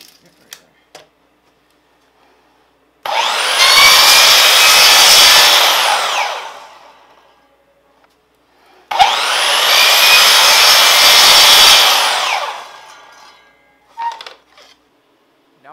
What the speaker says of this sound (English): I'm setting up the table saw to make a dado cut that is 3/8 high by 3/8 wide